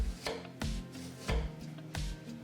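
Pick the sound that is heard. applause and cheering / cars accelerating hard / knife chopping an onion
knife chopping an onion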